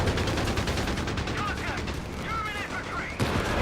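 Gunfire in the real-time strategy game Company of Heroes 3, including a shotgun canister-shot ability, heard as dense rapid crackling shots and bursts, with a commentator's voice over the battle noise.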